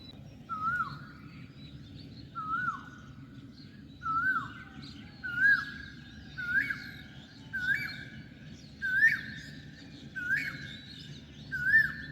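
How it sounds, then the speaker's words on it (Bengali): An Asian koel calls repeatedly, about a dozen rising whistled notes at an even pace, clear and fairly close over a quiet low background hum. "কোকিলের কুহু কুহু ডাক শুনতে দারুণ লাগছে"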